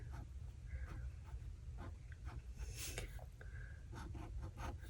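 A pen scratches across the pages of a paper planner in soft, intermittent strokes, close and quiet, with short pauses between words and the faint rustle of paper under a low background hum.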